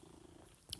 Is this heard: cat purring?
yes